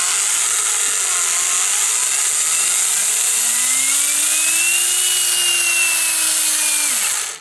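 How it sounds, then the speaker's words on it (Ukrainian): A Fixtool Pomogator cordless angle engraver runs steadily with a high whine and a broad hiss, rising slightly in pitch midway, then cuts off sharply at the end. It is close and loud, with no talk. "А давайте включимо, як працює."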